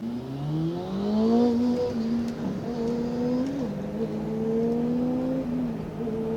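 A Kawasaki ZX6R motorcycle whines upward in pitch, rising through the gears as it pulls away, loud and close with a steady droning tone.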